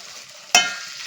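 Cauliflower florets and peas fry in oil in a pan with a soft, steady sizzle, broken midway by one sharp metallic clink of a spoon stirring against the pan.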